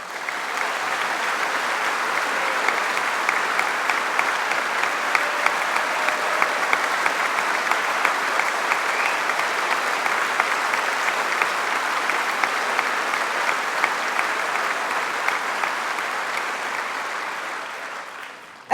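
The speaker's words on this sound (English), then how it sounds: "and Conference should applaud her." A large audience at a Labour Party annual conference applauds in a sustained, dense wave of clapping that holds steady, then tapers slightly at the end.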